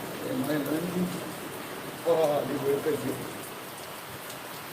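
Steady rain falls during a storm on a street in Nirav, Karaikal, a continuous wash of patter heard up close, with voices speaking faintly beneath it.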